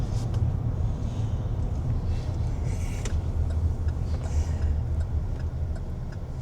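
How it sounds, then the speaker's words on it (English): A car approaching along a road, its low rumble building steadily as a continuous hum under faint outdoor noise, with no clear talk over it. "Oh, there's a car coming."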